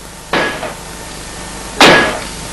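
Two sharp hammer strikes land about a second and a half apart, each a bright metallic crack with a short ringing decay, fairly close and alone against a quiet background.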